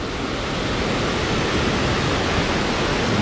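Heavy water thunders down at the Velo de Novia falls of El Chiflon, Chiapas, Mexico, a dense, constant, close-up roar holding steady throughout with no talking.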